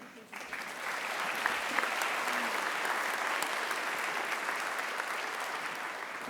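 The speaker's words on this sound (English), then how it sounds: "let's applaud for the class of 2029" A crowd at Geisinger's white coat ceremony applauds the incoming medical class of 2029. The applause swells quickly and holds as a dense, even roar of clapping for several seconds.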